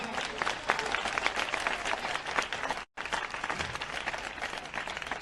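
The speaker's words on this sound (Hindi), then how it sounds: "जोरदार तालियां लगाएं" Loud, dense applause from a large crowd at a grand Christian convention in Hyderabad, Pakistan, sustained across the clip with a momentary dropout midway.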